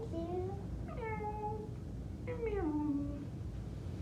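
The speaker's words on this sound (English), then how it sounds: "You hear the kitty, kitty?" Three drawn-out meows from a cat, fairly close, separated by short pauses, over a steady low background hum.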